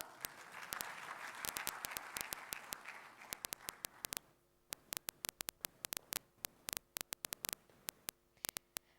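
Conference audience applauds in a hall, a dense burst of clapping for about four seconds that thins into scattered, separate claps and then trails off.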